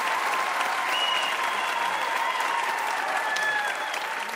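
Studio audience at a comedy debate show claps continuously, a full, even roar of hands holding steady for several seconds before tapering slightly at the end, with no talk over it.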